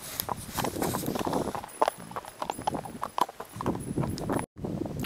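Large horses walking nearby on firm ground at Short Mountain near Smithville, Tennessee, with loud, irregular clip-clop hoofbeats close to the microphone and no talk.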